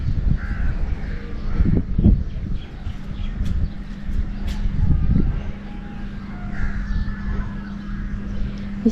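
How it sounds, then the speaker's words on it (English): Crows caw outdoors in a quiet setting, a few harsh calls near the start and middle over a low steady background hum. "I don't know if you can see all the birds"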